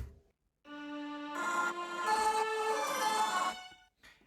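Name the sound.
layered distorted string ensemble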